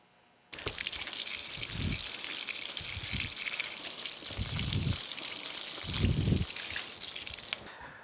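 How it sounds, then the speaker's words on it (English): Water from a hose sprays and splashes onto a Kawasaki KLX 110 dirt bike outdoors, starting abruptly and running in a steady loud hiss with shifting splatter and drips until it cuts off near the end. "take her outside and then just hose this off"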